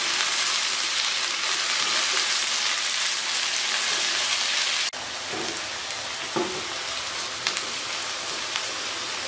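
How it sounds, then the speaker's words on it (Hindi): Okra fries in hot oil in a pan with a dense, steady sizzle that drops suddenly in intensity midway, followed by a few soft scrapes of a spoon stirring, with no talking. "अब हमने भिंडी को इतना फ्राई करना है कि भिंडी सॉफ्ट हो जाए, नरम हो जाए।"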